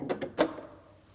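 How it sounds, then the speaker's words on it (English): A plastic pasta maker extruder slides into its chamber with a couple of quick scraping clicks, then a firmer snap as it locks in place, close and fairly quiet. "Slide the extruder into the chamber until it locks in."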